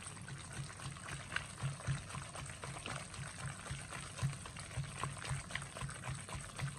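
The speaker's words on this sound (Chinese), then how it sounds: "我们往一个方向搅拌。" Seasoned meat filling for dumplings, made with salt, soy sauce, oyster sauce and black pepper, is stirred steadily in one direction, giving soft, repetitive wet squelching and slapping sounds at a quiet, close level.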